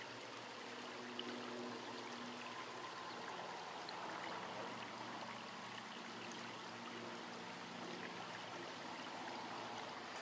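River water flowing in a steady, continuous wash, moderately close and unchanging throughout, with no voices.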